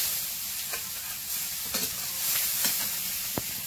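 Chopped onion sizzles steadily in hot oil in a wok, with occasional sharp scrapes and clacks as it is stirred. No voices.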